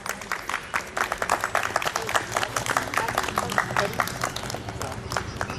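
A large audience at a women's committee Holi gathering and felicitation ceremony claps steadily and loudly, dense scattered hand claps filling the hall without pause.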